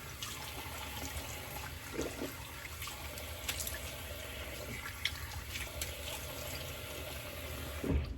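Running water from a tap rinses off shaving lather, a steady close splashing flow with a few small clinks and a louder splash near the end.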